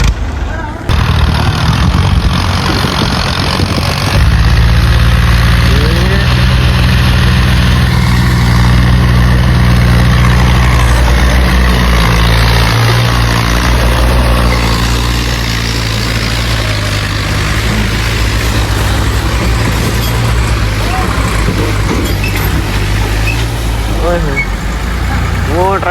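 A tractor engine runs steadily and loud throughout, a deep continuous rumble with a strong low drone, heard at a farm where wooden planks are being hauled; faint voices come and go beneath it.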